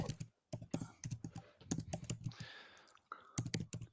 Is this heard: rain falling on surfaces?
no